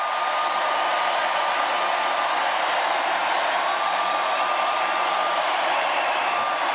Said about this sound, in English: applause. Thunderous.